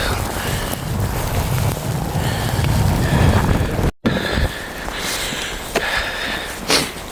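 Gusty wind roars steadily across the microphone during snowfall in Denmark, a loud broadband rush for about four seconds before a brief cutout, then continuing slightly softer with a few sharper gusts.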